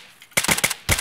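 Rapid gunfire in Escape from Tarkov on the Shoreline map, a quick burst of four sharp, loud shots followed by one more after a brief pause.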